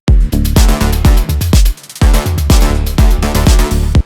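A layered synth pack of four sounds, group-processed with glue compression and saturation for electronic music production, plays loud punchy repeating bass-heavy stabs in a groovy rhythm with a brief gap midway, no voices.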